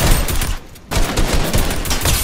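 Loud, rapid gunfire rattles through a 1v1 shooter video game match, dense bursts broken by one brief pause before the shooting resumes close and steady.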